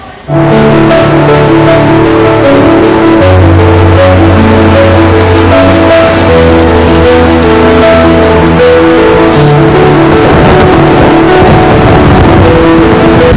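A motorbike being ridden on the way to a temple, a loud, steady engine drone with layered harmonic hum holding close for the whole stretch, pitch shifting slightly as the ride goes on, with wind noise rising near the end.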